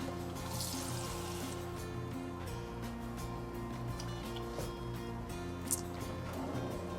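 Water poured into a dish of cassoulet in a home kitchen, a soft steady trickle and splash running for several seconds at low level, with faint clinks of utensils around it.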